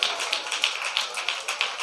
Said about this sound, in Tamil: கைத்தட்டல் இன்னும் கொஞ்சம் பலமா, இன்னும் கொஞ்சம் கேளுங்க.